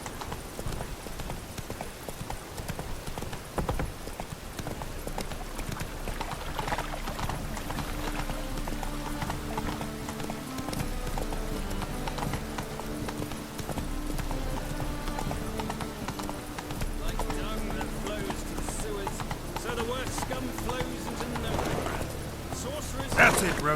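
Roach the horse gallops in The Witcher 3, steady rapid clip-clop hoofbeats running throughout under a game music score, with brief spoken voices mixed in.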